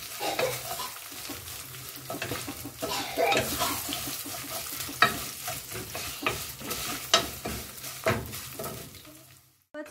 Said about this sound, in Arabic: باخدها واديها تقليبه كويسه لحد ما بتتحمر معايا الشعريه